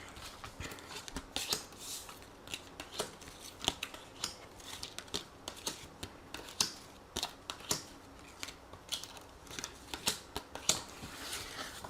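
Tarot cards being shuffled for a reading, a steady run of quick, crisp riffling snaps and soft slides repeating through the whole stretch, close and fairly quiet, with no talking.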